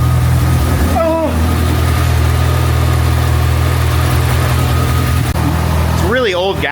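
Ecoboost-swapped Nissan 240SX engine running rough on old gas, a loud steady low idle rumble throughout, with people talking and exclaiming briefly over it near the start and end.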